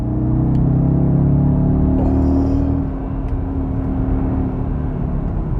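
An Audi RS Q3 with the optional RS sports exhaust drives along, its engine a steady, low, droning rumble from inside the cabin, easing slightly midway with faint whirring road noise throughout.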